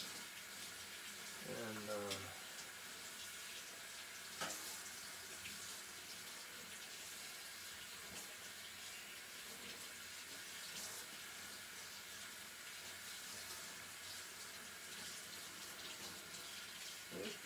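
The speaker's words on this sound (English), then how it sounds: "let me wash this brush out" Tap water runs steadily into a sink while a paintbrush is rinsed out, a continuous close splashing flow lasting the whole stretch, with a faint voice briefly at the start.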